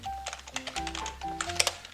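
Computer keyboard keys tapped in quick irregular bursts during accounting software data entry, including Enter and F2 presses, close and crisp, with a brief louder cluster near the end.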